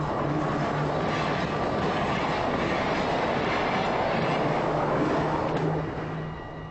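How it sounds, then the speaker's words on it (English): A modern fast train rushes along the rails through North Holland in spring, making a loud, continuous rumble and rattle that eases off slightly near the end. "By fast train, we rush through North Holland."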